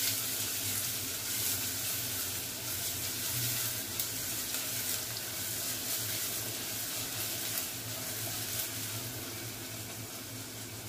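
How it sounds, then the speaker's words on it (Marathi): Onion sautéing in ghee for moong dal khichdi, a steady continuous sizzle close by with no pauses and no talk. "याच्यात आपण घालूया कांदा, कांदा आपल्याला थोडा लाल होईपर्यंत परतवून घ्यायचा आहे।"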